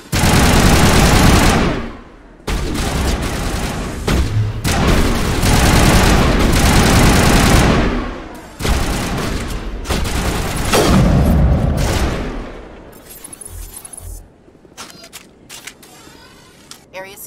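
Gunfire in Mass Effect Legendary Edition rattles in loud, dense bursts of rapid automatic shots with short breaks, then thins to scattered quieter shots and clatter as the fighting dies down. Some voices are heard during it.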